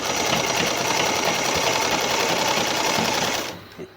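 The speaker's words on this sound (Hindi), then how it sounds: "उस पर हम इसको इस तरह रखते हुए सामने के हिस्से पर सिलाई लगाएंगे" A sewing machine stitching a fabric strip onto a hijab inner cap, a fast, steady mechanical whirring chatter heard up close that runs continuously before stopping abruptly near the end.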